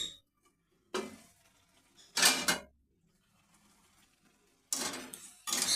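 A metal lid is set onto a cooking pot of tomato and eggplant cooked without oil or spices, with a few sharp clanks and rattles separated by quiet gaps, close by.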